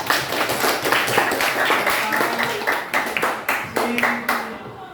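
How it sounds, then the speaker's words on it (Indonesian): Classmates in a school classroom clap for a student after a career guidance session, a dense patter of hands filling the room with a few louder claps standing out and murmured voices underneath. "tepuk tangan buat Pras"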